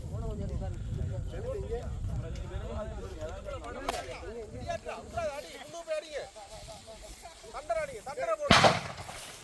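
Firecrackers are set off to chase wild elephants out of a village, with sharp bangs, one louder burst near the end, heard under continuous excited talking.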